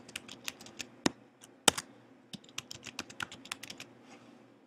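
A password typed on a computer keyboard: a quick, irregular run of crisp key clicks with brief pauses, close and fairly quiet in a silent room.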